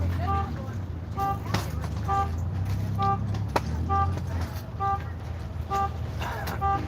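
A car horn toots repeatedly in short, evenly spaced beeps from nearby, sounding across roughly seven seconds over steady traffic and outdoor background noise, with a person talking intermittently.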